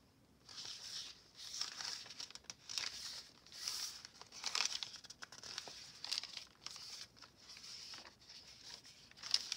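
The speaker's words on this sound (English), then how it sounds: "That's the packaging paper." Close, crisp crinkling of packaging paper being handled in irregular bursts, rustling on and off without any voices.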